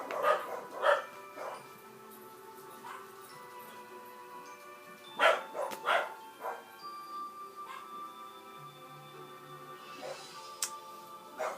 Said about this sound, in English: four dogs, 3 of them bark for no reason at all.